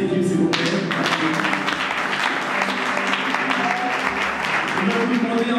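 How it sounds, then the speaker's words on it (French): A live theatre audience gives sustained, loud applause for a performance team. The clapping stays dense and even from start to finish, with a few voices mixed in. "On applaudit encore cette équipe, s'il vous plaît."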